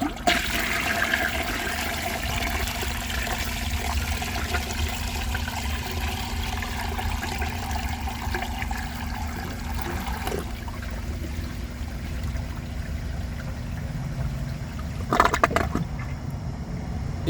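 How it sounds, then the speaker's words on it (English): A 1992 Peerless Hancock toilet flushing a full 3.5-gallon tank, then draining very slowly: a long continuous rushing and gurgling wash of water that holds steady throughout, close and fairly loud. "I've never seen a toilet drain so slowly before."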